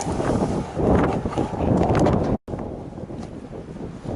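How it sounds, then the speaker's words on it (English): Steady, rushing wind buffets the microphone with low rumbling gusts, cutting out briefly partway through before resuming. "Seems like every time I want to make a video, it's windy."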